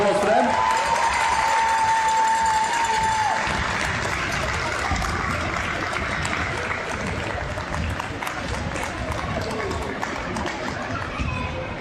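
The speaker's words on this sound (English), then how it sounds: "Big round of applause for them." Sustained clapping and cheering from a crowd at a women's premier basketball grand final, honouring the referees, with a whistle-like tone near the start and murmured chatter underneath.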